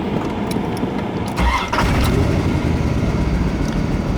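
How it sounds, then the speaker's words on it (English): A 1992 Corvette C4's 300-horsepower LT1 V8 with about 96,000 miles cranks briefly, catches and settles into a loud, steady idle close by. "we'll go ahead and crank it up here"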